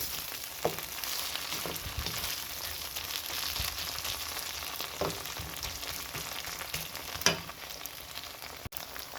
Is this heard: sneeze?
no